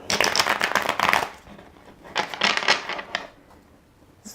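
Tarot cards being shuffled by hand, two bursts of dense crisp riffling and slapping separated by a brief lull, close and fairly loud with no talk.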